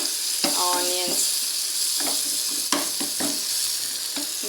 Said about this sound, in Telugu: చాలా వేడిగా పువ్వులా వస్తుందండి ఫ్రై అవుతుంటే ఆనియన్స్.